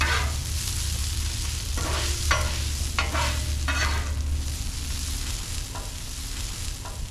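Venison smash burgers, bacon and onions sizzle and fry on a grill, with a steady hiss broken by several scraping stirs of a spatula, close and fairly quiet.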